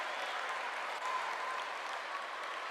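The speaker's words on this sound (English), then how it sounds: "A raucous crowd here in La Palma." Crowd applauding and cheering steadily throughout at a FIBA U18 Women's EuroBasket final between Spain and Finland in La Palma, a dense, continuous wash of clapping with no talk.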